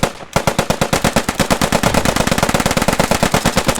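Rapid bursts of rifle and automatic gunfire with rifle grenade launches in the WWII shooter Post Scriptum, a loud, dense, steady rhythm of sharp shots from a house window that runs nonstop after a brief quiet start.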